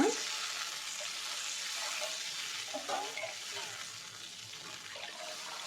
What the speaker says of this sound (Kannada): ಈ ಗ್ಲಾಸ್ನಲ್ಲಿ 3 ಗ್ಲಾಸ್ ಆಗುವಷ್ಟು ನೀರನ್ನ ಹಾಕ್ಕೊಳ್ಳೋಣ.